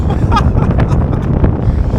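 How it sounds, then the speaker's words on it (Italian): Strong wind buffets the microphone on a bridge in the port city of Rotterdam, making a loud, steady rumble with gusty surges throughout. "Mamma mia che vento!"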